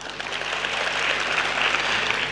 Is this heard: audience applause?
yes